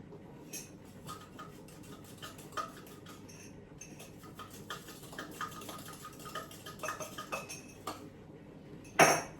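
A spoon clinks against a cup as black salt is added, making a run of light metallic ticks and scrapes. A sharper, louder clink comes near the end, and the whole scene sounds close and quiet with no speech.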